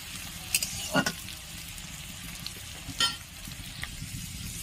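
Onions sizzle steadily in a hot pan as they fry until reddish-brown, the constant crackling hiss broken by a few louder scrapes and clinks of a spatula stirring.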